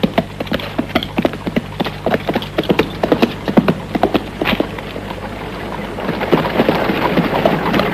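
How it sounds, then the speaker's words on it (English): Horses' hooves clip-clop in a quick, steady rhythm on hard ground for the whole stretch in an old Western scene, fairly close and loud over a low rumbling bed that thickens toward the end. "Get those horses of yours moving, Tom."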